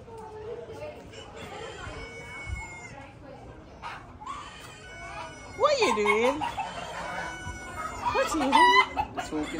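Chickens cluck and chatter on a farm while a rooster crows loudly twice, once midway and again near the end, close by and with people talking in between.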